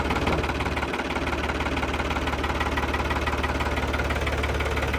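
An old tractor engine runs at a steady idle close by in a village yard in Ropar district, Punjab, a continuous low diesel rumble with an even knocking pulse throughout and no talk.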